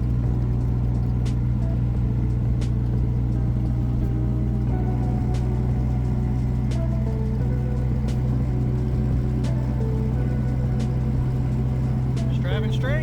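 A car drives along a street after a backyard wheel alignment, heard from inside as a steady low engine and road drone with a constant hum and faint rattles and clicks, continuous and fairly loud.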